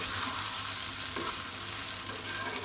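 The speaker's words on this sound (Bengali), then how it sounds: "পেঁয়াজ অ্যাড করে ভালোভাবে ভেজে ব্রাউন কালার যখন হয়ে যাবে পেঁয়াজটা" Onions frying in oil in a pan for khichuri, a dense continuous hiss of sizzling at steady loudness, close and unbroken, with no voices.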